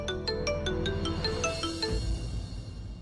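A phone ringtone plays alone, a bright repeating melodic pattern of short electronic notes that keeps cycling for a couple of seconds before breaking off, with a faint low hum in the background.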